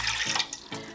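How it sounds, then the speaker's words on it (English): Water runs from a tap into a big cooking pot for coconut rice and peas, a steady splashing stream with two brief breaks as the flow shifts, close and alone. "Alright y'all, so now I have a nice big pot. I'm going to add 2 cups of water."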